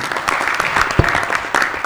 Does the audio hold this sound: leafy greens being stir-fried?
no